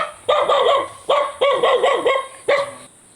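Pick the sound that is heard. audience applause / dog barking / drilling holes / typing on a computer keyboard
dog barking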